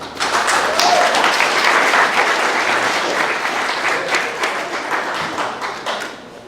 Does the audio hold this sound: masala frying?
no